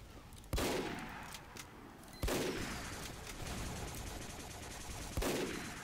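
Automatic gunfire from a sentry gun in Team Fortress 2, with loud sharp bursts at intervals over continuous rattling fire.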